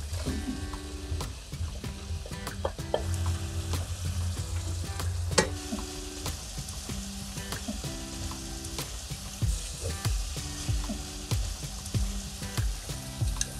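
Squash frying in a pan with sprigs of thyme, a steady close sizzle running the whole way with occasional clinks and soft knocks of a utensil against the pan.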